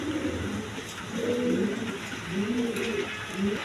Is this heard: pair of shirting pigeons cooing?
yes